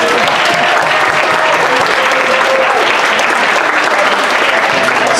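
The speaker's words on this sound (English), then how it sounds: "Let's give him another round of applause." A school assembly audience gives a sustained round of applause, loud, dense clapping from a large crowd that runs steadily throughout without a break.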